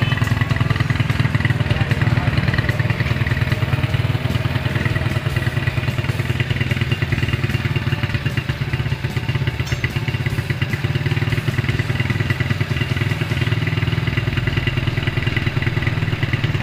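A Honda Astrea motorcycle engine, freshly rebuilt with a new Vario 125 piston in a standard-liner cylinder block, idles steadily and loudly up close, with a continuous low putter and mechanical clatter throughout.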